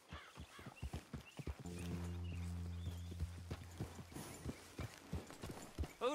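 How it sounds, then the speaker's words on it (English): Horse hooves in Red Dead Redemption 2 clip-clop in a steady walking rhythm, close by, with a brief low droning tone sounding partway through. "Grab your horse and let's go."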